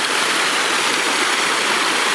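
The Purgatoire river flowing in Trinidad, Colorado in February, a steady, loud, close rush of water with no pauses or voices.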